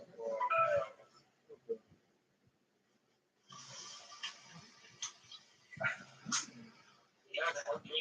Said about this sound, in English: Doggos.